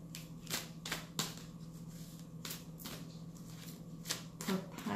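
Oracle cards being shuffled by hand, a series of soft, quiet riffling bursts and light taps recurring irregularly over a low background hum.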